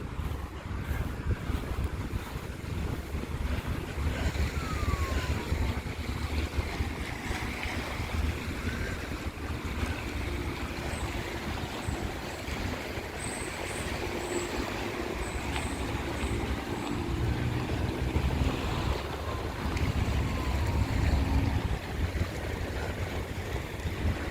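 Wind buffets steadily across open water at Küçükçekmece, with waves washing and lapping along the shore in a continuous low rush, no voices present.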